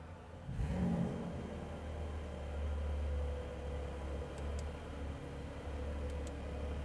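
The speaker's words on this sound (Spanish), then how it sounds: "Vean, vamos a encender el auto." A Porsche 911 (992) engine with sport exhaust cranks and fires up, then settles into a deep, throaty idle with a rumbling exhaust, close by and fairly loud, at a racetrack.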